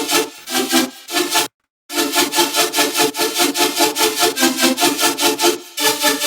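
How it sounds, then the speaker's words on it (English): Buzzy, gritty synth chords of two sawtooth waves through a comb filter, pulsing in a steady rapid rhythm, with a brief dropout near the start, loud and alone. "it's two sawtooth waves here with a combs filter"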